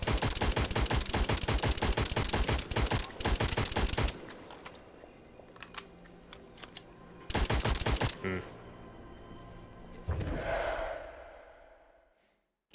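Rapid bursts of gunfire from a medieval-punk, Warhammer-style gun in the video game Witchfire, loud dense volleys at the start and again midway, separated by quieter stretches, ending in a decaying blast and silence.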